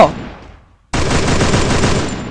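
Gunfire in a mobile shooter video game: a single shot fades out, then a rapid burst of automatic fire starts and holds loud and close.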